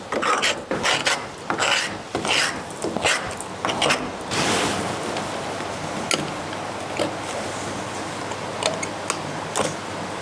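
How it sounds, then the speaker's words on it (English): Hand scraping of loose paint and flaking debris from damaged wooden boat planks, a rough rasping scrape repeated in short strokes, close and fairly loud, with a steadier stretch of grinding friction in the middle and no talk. "I'm trying to scrape off bits of loose paint and bits of loose chunks of stuff."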